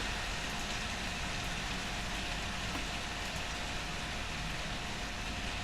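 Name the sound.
heavy rain outside an open window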